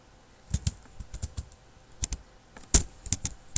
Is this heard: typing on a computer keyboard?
yes